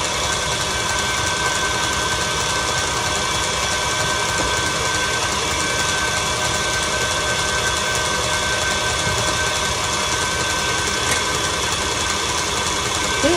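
An electric mixer whirs steadily and loudly, beating chocolate cheesecake filling with cocoa powder, a constant mechanical drone with no pauses.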